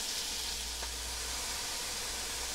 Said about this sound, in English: Let it sear, let it stick to the pan so it'll get that nice crust and that browning on it.